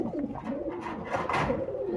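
A Golalal breed pigeon coos close by, its low, throaty notes rolling in a steady repeated pattern for about two seconds with no other sounds.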